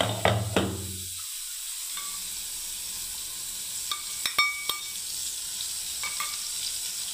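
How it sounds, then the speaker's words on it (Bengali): Pointed gourd fries in mustard oil with a steady close hiss and sizzle, broken by a few sharp clinks of a spatula stirring the pan, the first knocks louder before the frying settles to an even background. "দেখুন আর একটু ভালোভাবে কষিয়ে নিচ্ছি"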